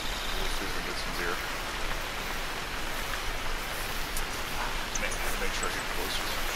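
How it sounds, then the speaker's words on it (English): Heavy rain in the hunting video game theHunter: Call of the Wild, a steady, dense hiss of rainfall drumming on surfaces, continuous and fairly loud throughout. "I can barely hear you because this rain is so loud"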